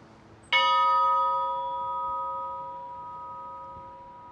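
A single bell in the Holy Trinity Cathedral bell tower, San Francisco, cast by the Finlansky Bell Foundry, is struck once, loud and near, its clear tone ringing on and slowly fading over several seconds.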